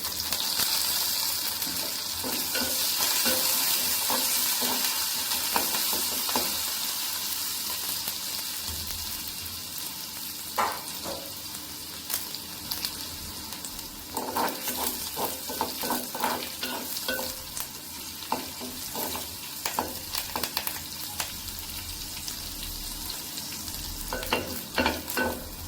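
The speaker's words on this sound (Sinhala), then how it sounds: "සුදුරුන් ටික බැදෙනකොට හරියම සුවඳක් එනවා" Cumin seeds and curry leaves sizzle steadily in hot oil in a pan for a tempered salmon dish, with intermittent scraping and stirring clatters that grow busier toward the end.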